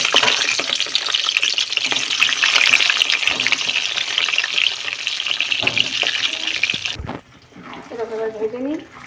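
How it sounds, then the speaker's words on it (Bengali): Potatoes frying in hot oil give off a continuous loud sizzling hiss that cuts off abruptly near the end, followed by a brief voice. "আলুগুলো লাল লাল করে ভেজে নিই"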